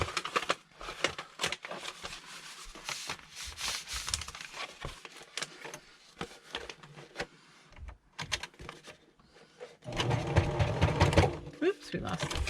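Sewing machine stitching through handmade journal pages, running in bursts with dense rapid needle clatter, then a faster, steadier run near the end; a voice talks in between.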